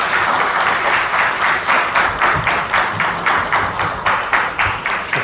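An audience applauds steadily as a guest presenter is invited onto the stage at a talk, a dense sustained patter of many hands in a hall with no voices over it.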